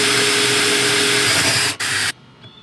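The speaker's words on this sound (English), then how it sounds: "So now we gotta drill another hole right here for that wire to come back up so it can connect to the Fishfinder." Power drill boring a hole through a restored jon boat hull for a fishfinder wire, a loud continuous whir for about two seconds with a brief dip before it cuts off abruptly.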